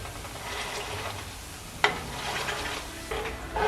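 Coconut milk stirred in a pan as it cooks down into coconut oil, a soft continuous sizzle with scraping stir strokes and one sharp clink of the ladle, fairly quiet and steady throughout.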